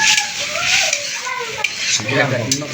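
Meat being stirred as it fries in a pot at an outdoor picnic, with a steady sizzle and scraping spoon strokes against the metal, close and fairly loud.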